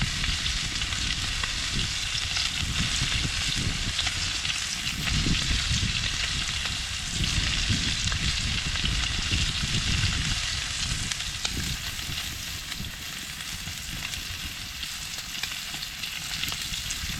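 Meat fries loudly in a pan at a truck camp for a carnivore dinner, a dense, constant close sizzle and spatter that runs unbroken for the whole stretch, with no talking.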